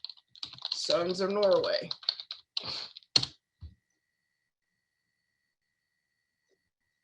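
Computer keyboard typing, a few quick clicks scattered between and after a person speaking, fairly close and soft, ending in silence.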